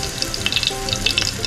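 Sweet potato slices sizzle and crackle loudly in a hot frying pan, a steady close bubbling hiss with bright popping spatters and no speech.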